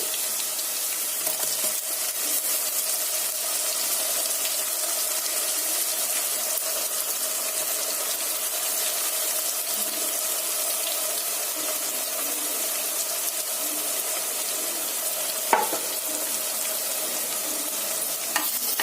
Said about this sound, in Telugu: ఆయిల్లోనే మసాలా మగ్గించుకోవాలండి